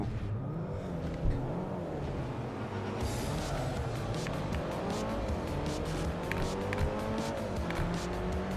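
At the start of a race in Forza Motorsport 4, a pack of race car engines roars and revs with rising pitch sweeps and tire squeal as the cars accelerate away, loud and continuous throughout.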